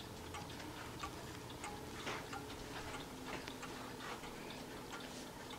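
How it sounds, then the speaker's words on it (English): A Seth Thomas Brookfield banjo wall clock ticking steadily indoors, soft regular ticks heard alone over a faint background hiss. "the newest one is the Seth Thomas Banjo, Brookfield Banjo Clock"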